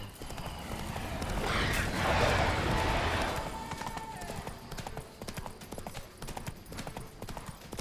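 Roach, the horse in The Witcher 3, galloping with steady rhythmic hoofbeats close by, joined by a brief burst of rushing noise early on before the clip-clop continues alone.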